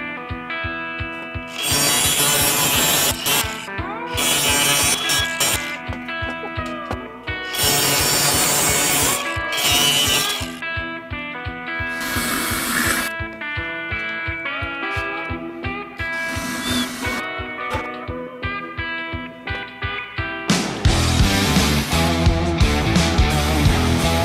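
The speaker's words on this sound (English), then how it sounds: "Now I think I'll cut this frame right here" A wooden frame for a jack stand storage rack is cut with a hand saw in a home workshop, giving steady rhythmic rasping strokes, loud and close, with brief pauses between bursts of sawing and no talking.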